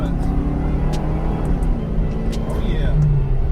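A Ford 5.0 coupe being driven, its engine rumbling steadily and close by the whole time, with a rise in pitch near the end as it pulls away.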